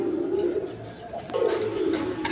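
Satin pigeons cooing in a loft, a steady low murmuring coo with soft swells and breaks, close and continuous, with no speech.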